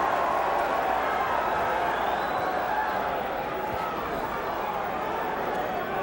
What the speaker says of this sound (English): The crowd reacting to a Barkley punch that was not nearly as effective